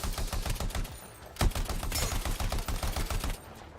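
Gunfire and a cluster grenade in the video game Anthem, a steady rapid stream of shots with one sharper blast partway through, loud and continuous before cutting off near the end.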